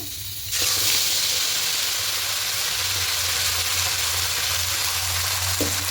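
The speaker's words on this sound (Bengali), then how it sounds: "তেলটা গরম হয়ে গেছে এবার ফোড়নে দেব গোটা গরম মশলা" Whole garam masala spices dropped into hot oil for a vegetarian chana masala, bursting into a sudden loud sizzle that settles into a steady, close hiss with no one speaking.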